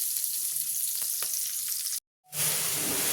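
Boiled greens frying in oil with chili and garlic, giving a steady bright sizzle with scattered stirring taps. A brief dropout cuts it off before the sizzle returns.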